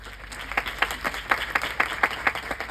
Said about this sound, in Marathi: मनीषा मॅम जे म्हणतायत ते तर जोरदार टाळ्या होऊन जाऊ द्या